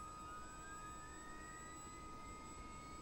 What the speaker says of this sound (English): go ahead and start up engine 2